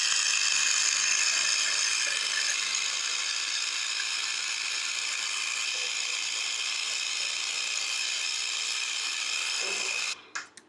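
Kitchen appliance scrubbed with a Pink Stuff scrubber brush, a steady, continuous bristly rasping at close range for about ten seconds, then a few short scrapes as it stops.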